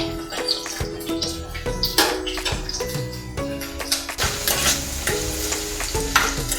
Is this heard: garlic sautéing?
yes